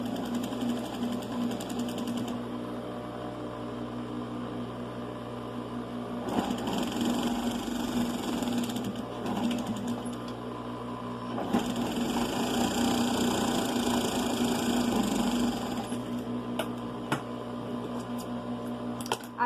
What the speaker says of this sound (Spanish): voy a coser la pieza del posterior con una costura recta a 1 centímetro